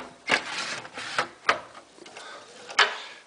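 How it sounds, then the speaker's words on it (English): An SSD slides into the front drive bay of a computer case, giving a few sharp plastic-and-metal clicks and scrapes, close and fairly loud, spaced irregularly with no talking. "Comes in very easily right from the front."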